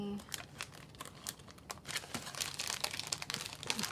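Wrapper crinkling as a packaged paper stitching kit is opened, a steady run of close, sharp crackles and rustles that grow busier toward the end, with a person speaking over it.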